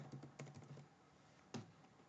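Typing a password on a laptop keyboard: a quick burst of soft clicking keystrokes, a pause, then one more firm key press, close and quiet.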